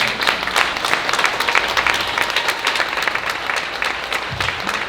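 Commencement audience applauding a graduate at an Emerging Leaders ceremony, with a loud, dense, continuous burst of clapping from a large crowd.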